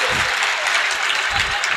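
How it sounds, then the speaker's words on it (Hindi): A seated audience claps steadily throughout an afternoon sermon by a Jain monk at a national handloom seminar. The applause is a dense, continuous patter of many hands, fairly loud and close. "ताली नहीं बजाना।"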